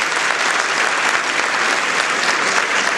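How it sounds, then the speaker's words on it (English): Audience applause at a food summit in the Bronx, a steady dense round of clapping from a sizable crowd, loud and continuous throughout with no voices over it. "Matos Rodriguez, a strong round of applause for her."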